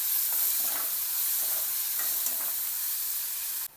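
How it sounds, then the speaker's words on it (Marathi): Sliced onions sautéing in oil in a pan for egg bhurji, a steady bright sizzle with a few soft stirring scrapes, close and continuous before cutting off abruptly. "कांद्याला तेलामध्ये छान परतवायचं, कांदा पण छान भाजायचा"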